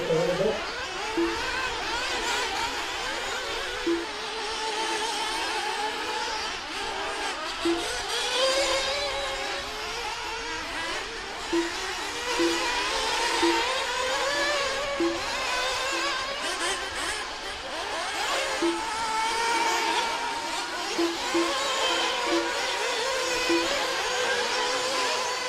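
1:8 scale open-class nitro RC buggies race in tight quarters on a dirt track at a club race, their small engines whining and buzzing continuously, rising and falling as they rev, with a steady drone throughout.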